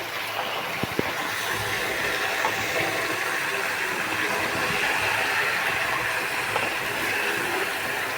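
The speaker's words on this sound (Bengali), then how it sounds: "সবজিগুলো একটু ভেজে নিই" Vegetables frying in a pan, a steady loud hiss and sizzle running the whole time with a couple of faint clicks near the start, no talking.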